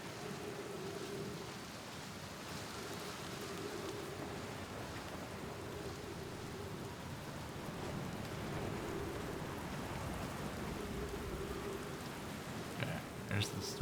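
Steady rain hisses through a stormy scene in the video game Outer Wilds, with a low rumble underneath it. The whole clip stays faint and unbroken, and a few sharp clicks come in near the end.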